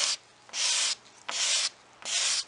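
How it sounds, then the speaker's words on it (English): A hand scraper drags across raised, stained wood on the top of a 1964 Lane Acclaim buffet, giving three long, close rasping strokes with short pauses between them and no talking. "I can feel when I go over that stain that it's raised, it's grabbing the scraper"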